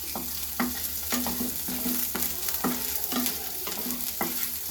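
Five dried red chillies fry in a pan for a green gram curry, a continuous sizzle broken by regular rhythmic spatula scrapes against the pan, close and alone without talk.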